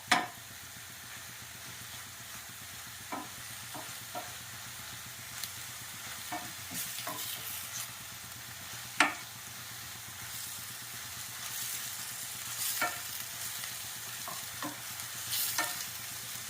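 Moringa leaves sautéing in a pan on high flame, with a soft, steady sizzle and hiss and occasional sharp spatula knocks and scrapes while stirring.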